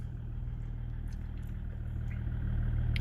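A BMW E-series car engine idles steadily nearby, a low, even hum with faint light clatter and no other sounds.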